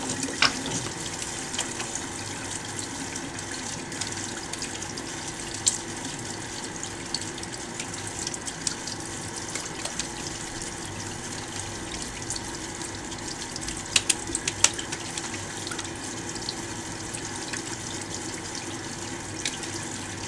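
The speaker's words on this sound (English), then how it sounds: "So first, you're gonna put water, then add soap." Tap water runs steadily into a sink during handwashing with soap, a continuous close gush with faint splashes and no talk.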